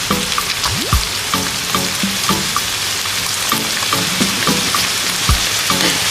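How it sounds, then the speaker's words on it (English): Canned tomatoes hit a hot pan of Italian ragù, sparking a loud, steady sizzle and frying crackle with occasional stirring scrapes, close and continuous with no voices. "Let's add our tomatoes. So I'm using can 1."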